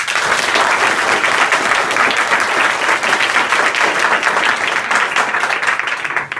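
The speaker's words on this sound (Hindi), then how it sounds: "यहां जितने लोग आए इनके लिए जोरदार ताली बजाएं" Students at a school assembly in Azamgarh, India, applaud loudly and steadily for several seconds, a thick, continuous roar of clapping heard up close that tapers slightly at the end.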